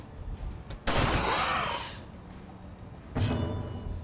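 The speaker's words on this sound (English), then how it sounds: "Grape shot blast." Grapeshot blast attack in the Darkest Dungeon video game: two sharp, loud explosive bursts, the first a broad cannon-like blast near one second that decays over about a second, a second shorter blast after three seconds.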